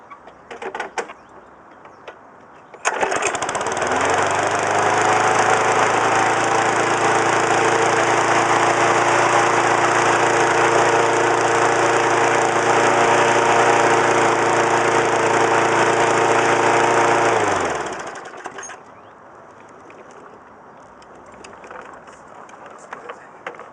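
A Yard Machines lawn mower with a 3.5HP Briggs & Stratton engine starts abruptly and runs steadily at a slightly high idle for about fifteen seconds, then cuts off and winds down, loud and close.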